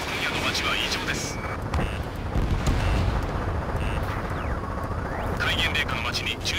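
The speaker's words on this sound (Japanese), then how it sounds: "戒厳令下の街に銃声と爆発音、そして戦闘機の音が響いています。" Gunfire, explosions and fighter jet noise from a nighttime city battle under martial law in the video game Ace Combat 7, a dense continuous rumble with sharp bursts and a passing jet whine, layered under talk.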